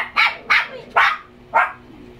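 A dog barks four times in quick, sharp, fairly close bursts in a quiet spot, with no talking.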